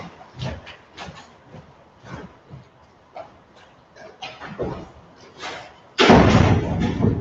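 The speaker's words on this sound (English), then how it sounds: "Let me close the door real quick." A room door is shut with a loud, sudden thud near the end, after a person speaks at length in an indoor lecture setting.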